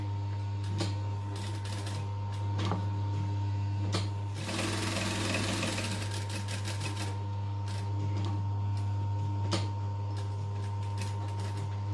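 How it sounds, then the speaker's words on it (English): Sewing machine stitching a box shape onto a handbag, a steady close whirring hum with rapid needle clatter running continuously, swelling briefly louder in the middle. "we're just going to stitch around that box"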